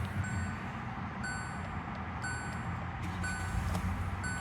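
A 2017 Hyundai Tucson SE with a 2.0L engine runs after being started by remote key, giving a steady close engine hum under a repeating electronic chime that beeps about once a second.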